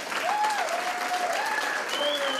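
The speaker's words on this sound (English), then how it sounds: "Can we all give another round of applause for Mayor Walsh?" Brief burst of audience clapping at a senior club's Mother's Day celebration in East Boston honoring the mayor, steady and close, with a voice or tonal sound gliding over it.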